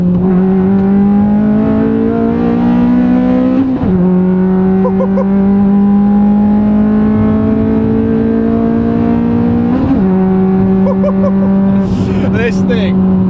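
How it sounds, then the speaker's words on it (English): A Ford Fusion ST built to about 200 bhp with a lightened flywheel, revving hard under full throttle in third gear, its loud engine note climbing steadily in repeated pulls broken by quick gear changes. "It revs so quick now because of the flywheel."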